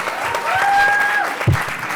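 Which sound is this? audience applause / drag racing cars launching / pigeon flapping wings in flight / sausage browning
audience applause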